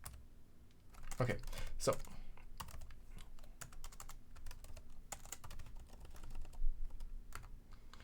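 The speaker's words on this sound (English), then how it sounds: "Maybe I need to buy a different keyboard for this laptop." Typing on a laptop keyboard: a steady run of close, light key clicks in irregular rhythm, with a voice briefly speaking over it.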